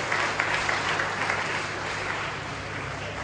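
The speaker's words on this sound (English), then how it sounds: "I think you should clap." A school audience applauding at a public event, steady continuous clapping from many hands heard at a moderate distance, soft and even, with faint crowd murmur beneath.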